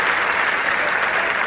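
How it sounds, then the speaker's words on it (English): A big cricket crowd at a 1979 West Indies versus England one-day match applauds a piece of fielding with steady, dense clapping that holds at an even level throughout. "of fielding and throwing by Desmond Haynes, the big crowd enjoying it"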